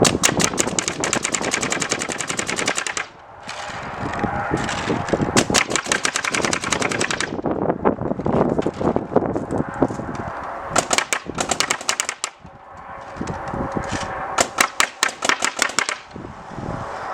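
Scout sniper rifle shots from Counter-Strike, compared across CS2, CS1.5 and CS1, fire as loud, sharp cracks in dense rapid bursts with a brief pause near three seconds and again near twelve, with no talk over them.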